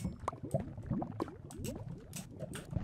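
Water poured onto lava in a video game produces a continuous bubbling, gurgling liquid sound with soft hissing pops, steady and fairly close, with no talk over it.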